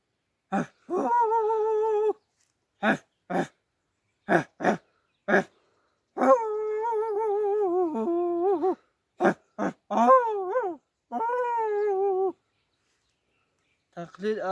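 A human voice imitates an old dog with raspy, wheezing barks and drawn-out whining howls, heard as short sharp yaps mixed with longer wavering cries, loud and close.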